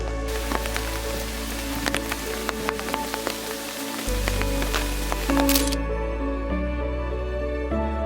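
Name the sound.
rain falling on stone steps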